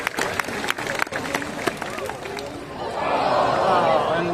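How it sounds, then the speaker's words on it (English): Audience at a sea lion show at Taronga Zoo in Sydney bursts into applause, a broad wash of clapping swelling over the last second and a half after scattered claps and crowd noise. "Why don't you give him a big round of applause for that?"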